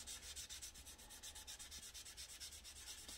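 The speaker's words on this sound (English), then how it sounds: "As you're sanding the smoother primer, that's what that sounds like." Steady back-and-forth sanding strokes rasp over primer on a Pontiac Fiero car body, a fast rhythmic hiss repeating about three times a second, close and continuous with no talking.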